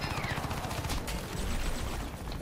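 Sniper rifle fire in the Crysis 3 video game: two sharp shot cracks rise out of a dense, loud wash of battlefield gunfire and rumble.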